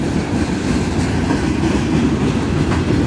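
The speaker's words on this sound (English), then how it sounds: "That's the BNSF Locomotive Front SD70MACe." BNSF SD70MACe freight locomotive train passing close by, a loud continuous rumble with rhythmic clickety-clack of wagon wheels on rail.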